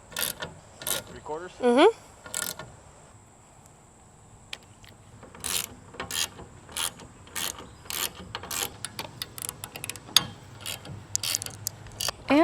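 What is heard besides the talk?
tightening roof rack bolts on a Ford Transit van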